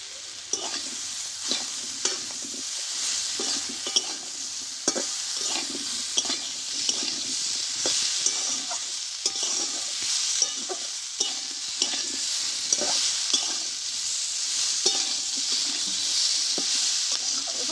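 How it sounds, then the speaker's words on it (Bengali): Spices and slit green chillies are sautéed in a pan for a Bengali cauliflower stalk dish, giving a continuous close sizzle broken by regular scraping clicks of a spatula stirring the mixture. "মশলাগুলো দিয়ে ভালোভাবে কষে নিয়েছি আমি"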